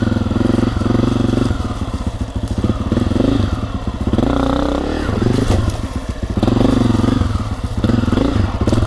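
A Honda CRF250F dirt bike fitted with BBR fork springs runs loud and close, its engine a continuous rough drone with rising and falling revs and some mechanical clatter throughout.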